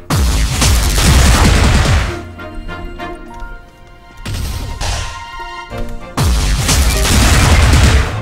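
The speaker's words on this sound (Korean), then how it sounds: "착지시 연속적으로 폭발하는 구체를 던지는 기술입니다" Thrown orbs burst in rapid repeated explosions on landing in Wizard of Legend, dense crackling blasts in three loud bursts separated by quieter game effects.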